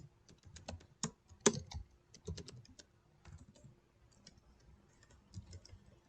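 Computer keyboard typing out an HTML title tag, a quick run of light, close clicks in uneven bursts with short pauses between keystrokes, fading to softer scattered taps toward the end.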